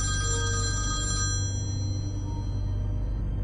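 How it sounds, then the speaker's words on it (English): An old-style telephone bell rings steadily, then fades, over a low constant hum with no voices. "The phone rang yet again."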